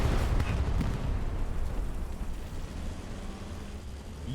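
Distant rocket explosions in the video game Hell Let Loose, a rolling rumbling blast that fades over several seconds with no talk.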